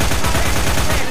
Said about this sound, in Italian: Si sentono 3000 volte gli spari